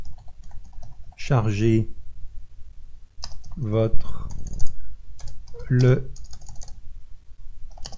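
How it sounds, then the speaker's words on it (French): Computer keyboard typing, a steady run of light key clicks under a French-speaking voice that talks intermittently over it. "et là vous tapez votre texte"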